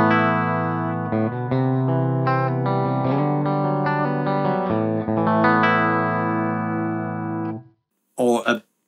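An electric guitar through the Blue Cat Axiom plugin on its bridge and middle pickup setting plays a steady riff of sustained, effected notes for several seconds. A brief spoken voice follows at the end.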